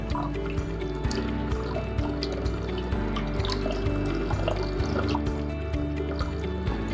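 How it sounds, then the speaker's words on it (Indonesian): Steady running tap water pours and splashes continuously over a histology slide during rinsing, with faint dripping and trickling throughout; no voices. "Setelah itu cuci kembali dengan air mengalir selama 1 menit."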